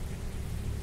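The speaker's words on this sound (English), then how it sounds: "Perfect timing for a storm." Steady roar of heavy rain with low rumbling thunder fills a stormy night in the video game Forsaken Castle, a continuous dense wash of sound with no voices.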